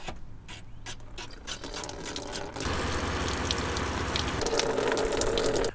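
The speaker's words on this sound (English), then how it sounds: "get that water pump moving, rinse, repeat" A water pump pushes plain water through a dirty car coolant system during a flush, first with a rattling mechanical whir, then with a steady, loud gush of running water that continues to the end.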